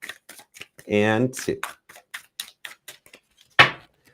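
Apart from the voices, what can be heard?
shuffling a tarot card deck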